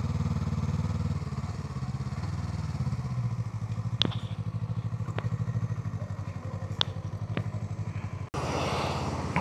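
A motorcycle's engine runs steadily at a petrol station in Thailand, a low rhythmic putter with a few sharp clicks and clatters on top and a brief cut near the end.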